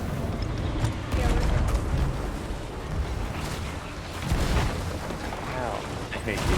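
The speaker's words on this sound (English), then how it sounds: "I hate these cannons." Ship cannons fire in a video game battle, repeated booming blasts amid dense rumbling action noise, with players talking over it about repairing a boat.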